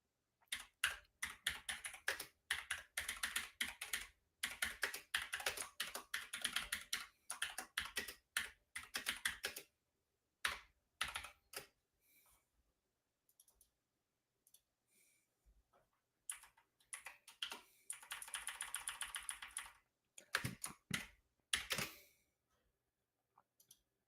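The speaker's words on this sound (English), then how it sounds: "I'm sorry, guys, about the keyboard." A loud computer keyboard clatters in rapid bursts of typing with short pauses between them, close and crisp, with no voice present.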